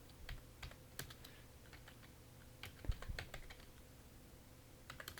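Soft, scattered clicks from a computer keyboard, including the Shift and Enter keys, come in short irregular bursts with pauses between them, quiet and close, with no talking.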